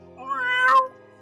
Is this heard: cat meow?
yes